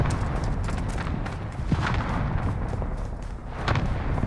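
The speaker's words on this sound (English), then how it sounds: "Allied cluster strike inbound." Allied cluster strike in a shooter video game, a rapid series of deep, rumbling explosions and booms that pile on one another in a continuous barrage, with several sharper blasts standing out.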